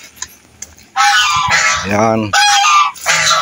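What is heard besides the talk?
geese honking at a fish pond farm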